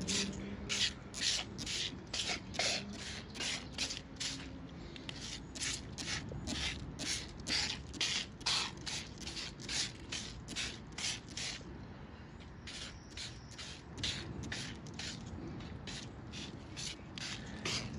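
A handheld trigger sprayer misting vinegar onto cabbage worms in a garden, with a steady run of quick, close spritzing pumps repeated over and over with only brief pauses.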